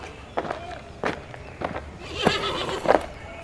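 A horse whinnies with a shaky, drawn-out neigh amid intermittent hoof clops in a haveli setting within a Hindi horror audio drama, moderately close.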